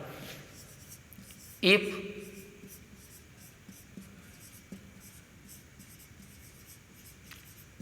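Someone writes on a board during a physics lesson on electric charge, making faint scratchy strokes with one sharper tap, while a teacher keeps talking throughout.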